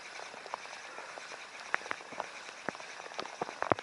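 Cold, heavy rain falls steadily during a chilly outdoor fishing trip at about three degrees above freezing, a dense hiss with scattered sharper drops tapping nearby surfaces.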